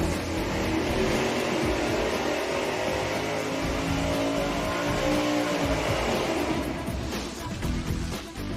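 A 1,000 hp engine runs on a dyno fitted with Flowmaster mufflers, giving a loud, sustained, rumbling drone that holds steady for most of the run and then fluctuates as it backs off near the end.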